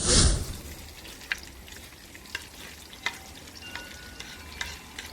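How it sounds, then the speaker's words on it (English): Onions sizzle steadily in hot oil for a Nepalese-style chicken curry, with a few sharp clicks and clinks from a utensil against the pan. "Just put the onions, all of the onions."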